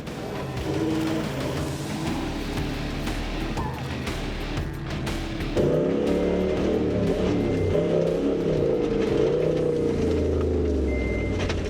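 A black truck's engine strains and revs as it creeps out of a flooded bog in the Simpson Desert, a low steady drone that rises in pitch and intensity partway through, close and continuous.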